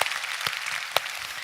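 A church congregation applauding in thanks during a service: a dense wash of clapping from many hands, with a few sharper individual claps standing out, brief and moderately loud, with no voices.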